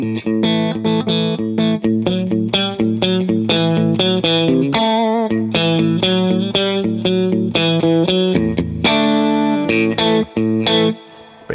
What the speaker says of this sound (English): we're getting all 3 pickups on, which is a real kind of weird, funky,